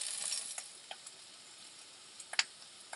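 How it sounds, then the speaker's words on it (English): Vegetables sauté in oil in a pan with a soft, steady sizzle and scattered small crackles and pops, fairly quiet and close, with no talk. "When we fry vegetables together, we also call this sautéing."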